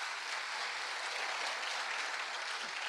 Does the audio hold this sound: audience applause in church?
yes